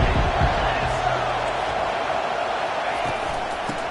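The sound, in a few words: football stadium crowd cheering on third down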